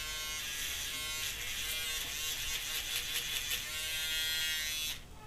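An electric hair clipper runs with a steady, high-pitched buzz for about five seconds, loud and close, before it cuts off abruptly near the end.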